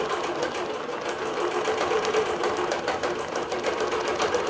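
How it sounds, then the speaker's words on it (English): A longarm digital quilting machine stitches steadily with Polysheen thread, a continuous close whirring hum with a fast, even mechanical rhythm that holds at the same level throughout. "stitching with the polysheen, it goes very smoothly through the machine and enables you to quilt a little bit quicker"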